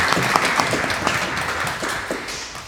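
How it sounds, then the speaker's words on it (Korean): A church congregation claps together in appreciation of the men's fellowship for preparing a whole pig barbecue, a dense, loud wash of many hands that tapers slightly over nearly three seconds. "힘찬 박수를 한번 보내주시기 바랍니다"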